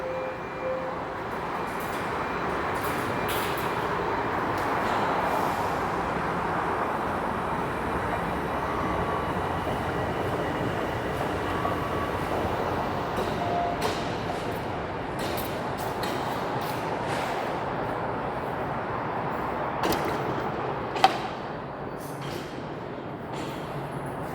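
A Toronto subway train heard from a busy station area, a steady loud rumble and roar of rail wagons going on for a long stretch, with scattered clicks and a sharp knock near the end.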